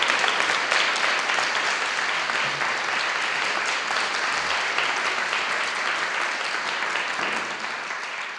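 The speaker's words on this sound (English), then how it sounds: "Please give them a round of applause." An audience at a community poverty summit gives panelists a long, steady round of applause, dense and even, tapering only slightly at the end.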